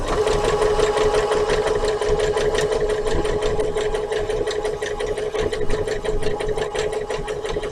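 A sewing machine stitches through a thick folded felled seam of denim from a pair of jeans, running steadily and loud with a fast, even mechanical clatter that continues without pause.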